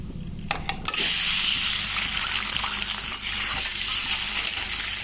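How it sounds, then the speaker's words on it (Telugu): Boiled eggs fry in hot oil with chilli powder and salt for an egg masala curry, giving a loud, steady sizzle and crackle with a few clinks early on. "ఇలా గోల్డెన్ కలర్ వచ్చేంత వరకు ఈ ఎగ్స్ని ఫ్రై చేస్తూ ఉండాలి"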